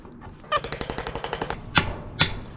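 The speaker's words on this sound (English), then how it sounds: "Then grab your star picket and your hammer." A hammer drives a steel star picket into the ground during a leaning fence repair, a rapid run of about a dozen sharp metallic blows followed by two louder separate strikes, close and alone.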